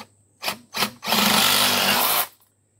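A power tool cutting through a well pipe at its coupling: two brief bursts of the motor, then a steady loud grinding cut lasting about a second before it stops.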